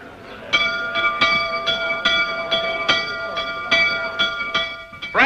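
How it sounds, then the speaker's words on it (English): An assembly bell ringing out in repeated strong strokes, each one leaving a sustained metallic hum, struck roughly every half second for several seconds, loud and close with no voices. "Alexander, ring the assembly bell."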